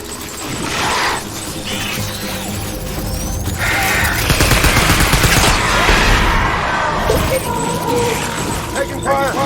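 Gunfire and crashing impacts in the video game Death Stranding, loud bursts and rattling shots scattered through a busy combat mix with voices talking over it.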